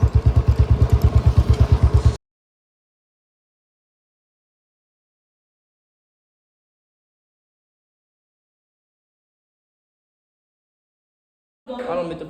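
A Royal Enfield Bullet motorcycle runs with a loud, steady thumping engine note for about two seconds, then cuts to silence before a short burst of the engine returns at the end.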